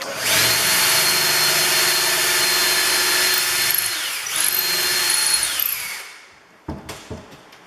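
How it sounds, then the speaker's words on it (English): A power drill fitted with a larger bit runs steadily and loud for several seconds, whines down, then gives a few short bursts as it stops. "Now I'm just switching to the larger drill bit."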